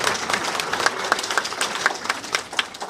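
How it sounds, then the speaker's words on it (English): Audience applause at a nursing graduation ceremony, a steady wash of many hands clapping with scattered sharper claps standing out, moderately loud and continuous with no talk over it. "If we can give them a quick applause."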